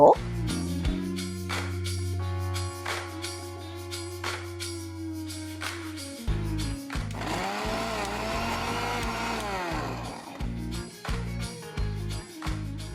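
An electric mixer grinder whirs through tapioca and chana dal in a sustained coarse buzz midway, with someone talking before and after it and some clattering.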